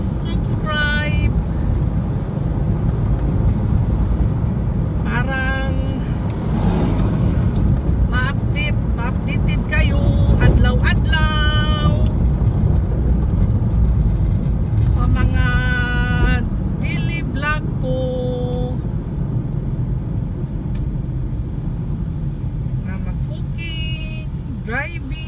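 A car drives steadily along a road, its low engine and road rumble continuous for the whole stretch, while a person talks over it in bursts.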